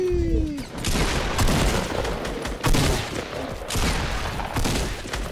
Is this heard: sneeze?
no